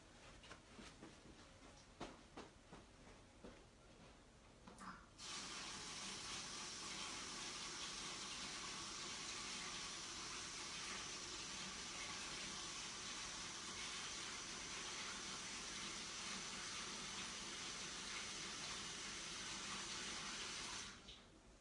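A bathroom tap runs to wet a makeup sponge, starting after a few soft rustles and clicks, then gushing as a steady, full stream of water for about sixteen seconds before shutting off.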